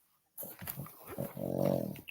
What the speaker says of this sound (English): I got the dog right here.